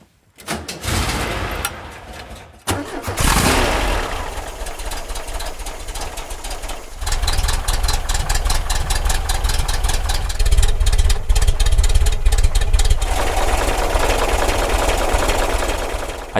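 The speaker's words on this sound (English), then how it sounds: "So what I'm going to do is start it up, poke around with the microphone, record the exhaust" A Volkswagen camper van engine cranks briefly, catches and starts, then settles into a steady, loud mid-pitched idle with a rough, knocking exhaust note recorded close up.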